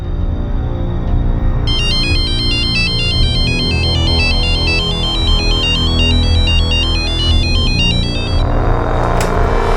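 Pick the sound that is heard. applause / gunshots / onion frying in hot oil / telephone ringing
telephone ringing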